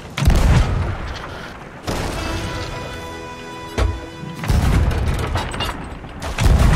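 A heavy cannon blast slams into a ship in the video game Sea of Thieves: several deep booming impacts with crashing debris between quieter ringing stretches, loud and near.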